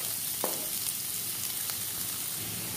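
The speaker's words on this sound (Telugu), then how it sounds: "బాండిలో ఒక కప్పు నూనె ఇందులో ఆనియన్స్" Onions frying in a cup of oil in a kadai for a paneer veg curry, a steady close, loud sizzle running throughout with a brief utensil knock near the start.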